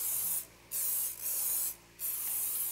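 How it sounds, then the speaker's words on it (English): Cooking spray hisses from an aerosol can onto a springform pan in three broad bursts, each roughly half a second long, with short quiet gaps between them and no talking. "make sure that you spray your springform pan pretty good because it will stick"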